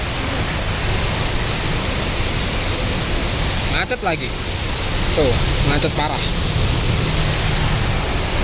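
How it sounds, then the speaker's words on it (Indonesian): Heavy rain pours steadily in Magelang while riders shelter from the downpour on a motorbike trip, a dense unbroken hiss filling the background as people talk over it. "dan hujan deras banget,"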